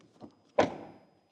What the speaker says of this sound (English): I would wish that the rear door closing sound is like in the front.